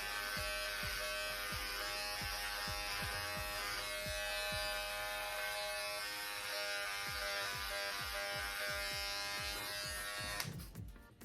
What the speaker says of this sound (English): Y'all see how I'm shaving this now, right?